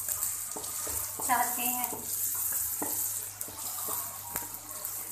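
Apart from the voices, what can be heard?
frying ginger garlic paste in oil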